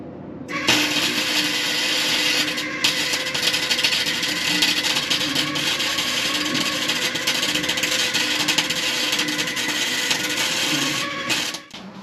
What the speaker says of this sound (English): I'm gonna go ahead and weld that metal on there, and then we can attach that winch